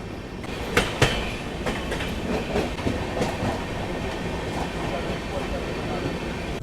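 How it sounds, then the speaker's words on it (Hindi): A Garib Rath express with LHB coaches pulls out of Aligarh railway station, heard from on board as a steady rumble with wheel clatter and a few sharp knocks, loud and continuous. "2 मिनट का हॉल्ट लेने के बाद अलीगढ़ रेलवे स्टेशन से हमारा प्रस्थान हो गया है।"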